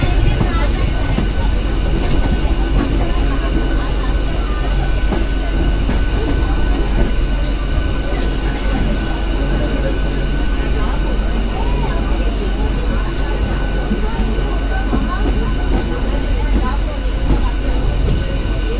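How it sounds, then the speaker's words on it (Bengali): A train on the Tamluk to Digha rail line, halted between Nandakumar and Tamluk, gives a loud, steady, dense rumble with a continuous low hum that runs unbroken throughout. "নন্দকুমার আর তমলুকের মাঝে ট্রেন দাঁড়িয়ে আছে"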